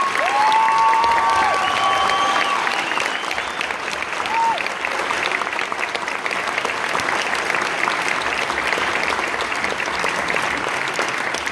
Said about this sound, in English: could you stand so we can give you one more round of applause?